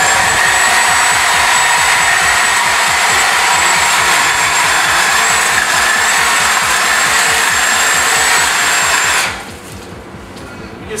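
An electric hedge trimmer cuts through branches with a loud, close, steady motor whine that pulses rhythmically as it is worked back and forth. The whine cuts out near the end, leaving only quiet background.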